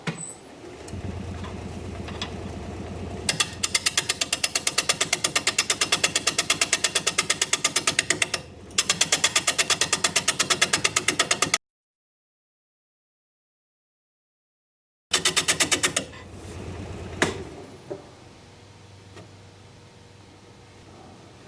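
A wood lathe spins at about 550 RPM while a bowl gouge cuts a birch end-grain bowl. A steady motor drone carries a rapid rhythmic ticking, then the sound cuts out briefly and resumes before fading to a quieter hum.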